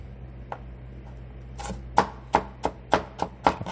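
Knife chopping ingredients on a cutting board for beef chili, one faint tap and then a steady run of about eight sharp, close chops in quick rhythm, with no talk.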